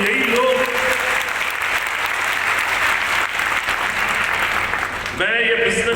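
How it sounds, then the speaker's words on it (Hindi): A business event audience gives loud, dense, sustained applause for team leaders, a continuous roar of clapping with a brief dip before it swells again near the end. "उन सबके लिए एक बार जोरदार ताली होनी चाहिए"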